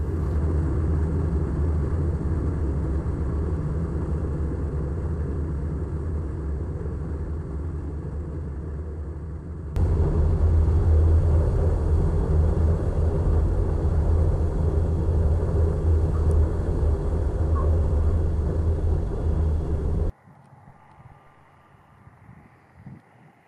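Cessna Cardinal 177 landing, heard from inside the cockpit: a steady loud engine and wind drone that steps up briefly, then drops to a quiet low rumble as the plane rolls out.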